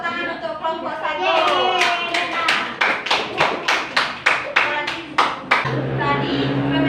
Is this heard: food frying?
no